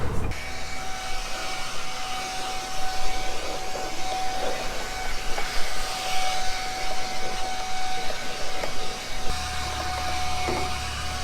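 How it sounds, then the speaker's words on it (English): Compressed air blasting dirt out of a pair of Crocs shoes beside a truck after unloading cow feed, a steady loud broadband hiss running almost continuously, then cutting off near the end. "blow all the crap out of my Crocs"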